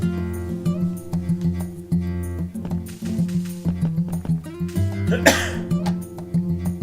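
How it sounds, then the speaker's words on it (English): A single sharp cough bursts out near the end over a steady, droning tonal background, close to the microphone. "Then there was one last cough for the road,"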